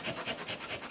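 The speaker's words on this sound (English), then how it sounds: "I just took a piece of the sandpaper and just sanding it off" Sandpaper held by hand is rubbed over a vinyl record in quick, even back-and-forth strokes, a rhythmic, close, raspy scratching with no voices.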